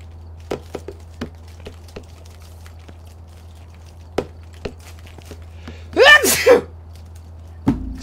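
One sharp, loud sneeze rings out close up midway through an online Phasmophobia gaming session, set against a low steady hum and scattered faint clicks and taps.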